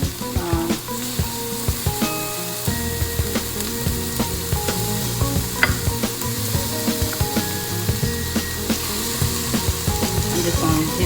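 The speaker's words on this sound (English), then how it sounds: "now we're going to add on our shrimp and our vegetables" Jumbo shrimp and vegetables frying in a pan give a loud, steady sizzle, with frequent utensil knocks and scrapes against the pan throughout.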